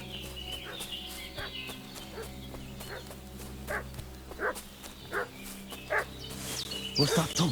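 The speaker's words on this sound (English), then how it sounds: "What's that dog making such a fuss about?" Dog barking in the medieval role-playing game Kingdom Come: Deliverance 2, a series of separate sharp barks spaced a second or so apart over a steady ambient bed with rural fowl sounds, growing louder and more rapid near the end.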